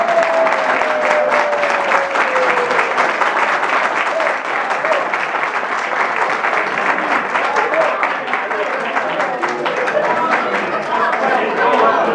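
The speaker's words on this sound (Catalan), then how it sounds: "Fort aplaudiment!" Loud applause from guests at a lunch gathering in Leucate, sharp individual claps mixed into a sustained round, with some voices and chatter underneath.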